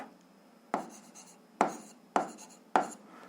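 Chalk or marker strokes on a board during a physics lesson, four distinct tapping strokes spaced under a second apart, each with a short scratchy trail, in a quiet room without talk.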